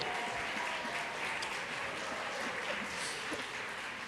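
Congregation applauding during a Sunday worship service, a steady wash of clapping held at a moderate distance for several seconds with no break.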